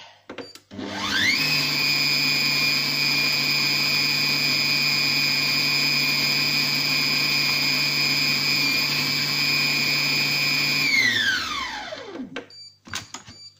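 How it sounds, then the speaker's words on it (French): A Compact Cook Pro food processor chops tuna rillettes in one long steady run: a loud whining motor hum that holds level for about ten seconds, then drops sharply in pitch as the blade winds down, followed by a few faint clicks. "Et on remet hacher."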